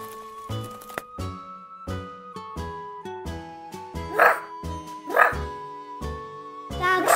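A medic dog barks in short, sharp bursts, a few spaced barks over a steady tonal music bed, moderately loud and fairly close.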